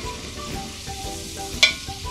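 Onions and bell pepper fry and soften in a pan for a pilchard and sorrel tomato-sauce dish, giving a steady close sizzle with one brief sharp crackle near the end.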